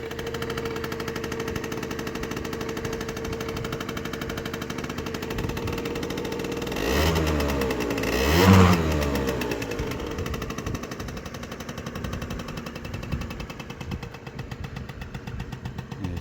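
An Aprilia SR50R scooter engine idles with a steady rapid putter, briefly revving up once before settling back to an even, fairly quiet idle.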